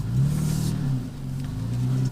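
A 3rd generation Toyota Tacoma off-roading at night, its engine droning and rising steadily up close as the wheels spin for grip, with no other sounds.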